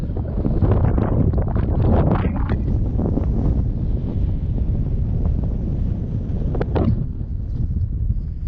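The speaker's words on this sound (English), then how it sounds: "Sorry about the wind" Steady, loud wind buffets the microphone at an outdoor campsite by a WW2 pillbox near Harwood Forest, a constant low roar with no voices.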